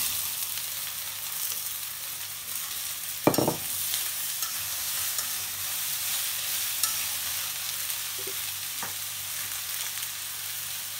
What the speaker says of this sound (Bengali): তেল গরম হয়ে গেল, এই যে দিয়ে দিলাম পেঁয়াজ কুচি।